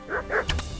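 Dog barks in Kingdom Come: Deliverance, two quick bow-wow barks and then a sharper yip, close and fairly loud over a low ambient game background.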